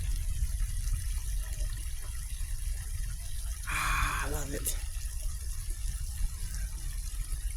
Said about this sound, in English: Hear that? Listen. Let me show you the water here.